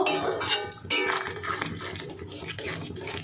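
A chicken dish being stirred in a cooking pan, with scraping and clinking of a spoon against the metal in irregular bursts, close up and without talk.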